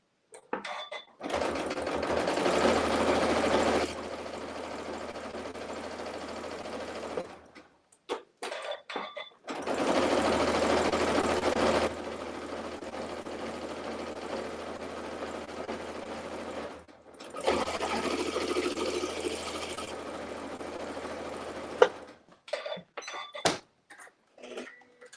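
A sewing machine stitching binding onto a T-shirt quilt runs in three sustained bursts of steady whirring, each lasting several seconds, separated by quiet gaps and small handling clicks.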